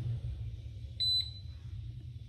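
An air fryer's control panel gives two short, high electronic beeps close together as its timer button is pressed, heard alone over a steady low kitchen hum.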